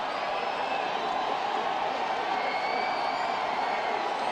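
Football crowd at a WIAA Division 4 state championship game, a broad, steady roar of cheering from the stands that holds at a constant level, heard from a distance with a faint voice mixed in.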